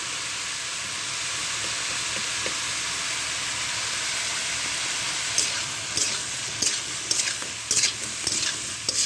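Bitter gourd and other vegetables with turmeric and salt fry in a pan with a dense, steady hiss, then clattering spatula stirs and scrapes come in over the second half.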